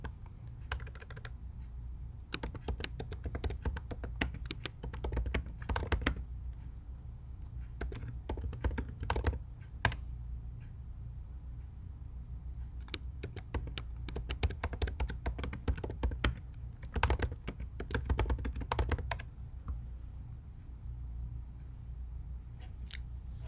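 Bursts of clicky keyboard typing, quick irregular keystrokes in clusters separated by short pauses, close and fairly quiet.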